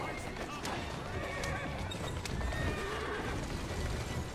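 Horses galloping and neighing during a street race in Assassin's Creed Syndicate: steady hoofbeats under several whinnies, set against a continuous noisy game bed of street sound.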